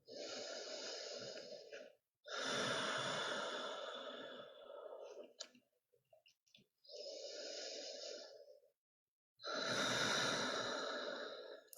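Slow, deep breathing during a yoga session: long drawn inhales and exhales in an even rhythm with brief pauses between, close and fairly quiet, with no talk.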